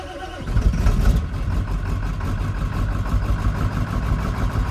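An engine with a leaky fuel bowl, just restarted on a fully charged battery, keeps running with a steady, rumbling idle heard up close.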